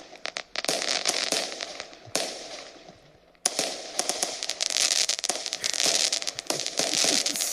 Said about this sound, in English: Let's just end with the fireworks.